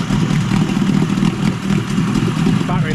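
A nearly 50-year-old Yamaha 20A two-stroke outboard motor runs close by with a buzzy, throbbing idle that wavers slightly in speed, loud and continuous.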